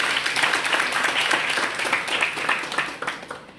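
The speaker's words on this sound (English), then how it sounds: "Give yourselves a round of applause." Audience at a political party launch rally gives a short round of applause, steady dense clapping close and full throughout, thinning slightly toward the end.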